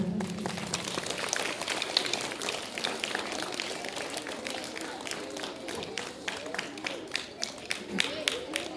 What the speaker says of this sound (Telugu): all the teachers please claps